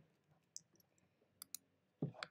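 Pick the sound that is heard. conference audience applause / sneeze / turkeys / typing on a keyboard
typing on a keyboard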